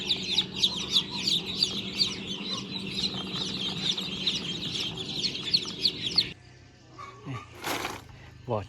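A large brood of more than a hundred newly hatched H'mông chicks fills the space with dense, continuous high cheeping, loud and close, breaking off near the end into a few scattered peeps and a brief rustle.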